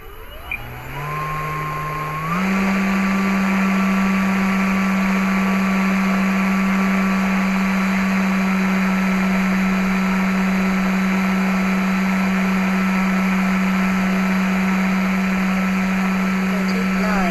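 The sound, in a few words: electric motor revving to full throttle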